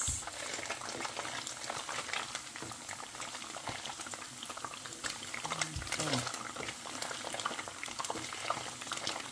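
Coconut milk boils down in a pan into latik oil, a dense, continuous bubbling and sizzling with frequent sharp pops, close and fairly loud throughout.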